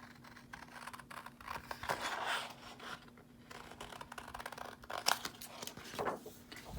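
Scissors trim thin stock paper for candy cane craft boxes, giving faint, close scraping and snipping strokes in an irregular rhythm against a quiet background.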